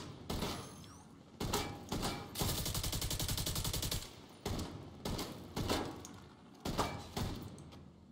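Gunfire in The Division 2 Dark Zone, including shotgun blasts: repeated loud shots in irregular bursts, with one sustained rapid volley in the middle, no talking.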